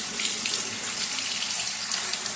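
A bathroom tap runs steadily into a sink while shaving lather is prepared, a bright, even splashing stream that stays close and continuous for the whole stretch, with no talking over it.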